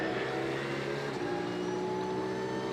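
A race car circles a corner of the Magny-Cours circuit in an evening race, its engine droning steadily and loud throughout, a sustained tonal whine without breaks.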